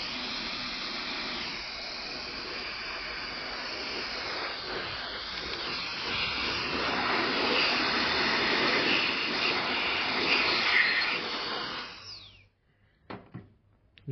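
An air blower cleaning a computer gives a loud, steady rushing hiss that runs unbroken for about twelve seconds, then cuts off abruptly, leaving a few faint knocks.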